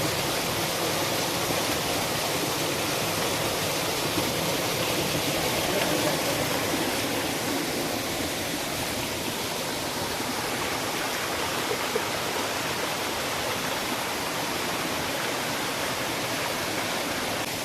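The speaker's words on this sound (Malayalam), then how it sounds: "ചാട്ടുപാറ വെള്ളച്ചാട്ടത്തിന്റെ വരികളാണ് കണ്ടാ" Steady rushing water from the Chattupara waterfall hidden in forest, a continuous broadband roar holding even and loud from start to finish with no voices.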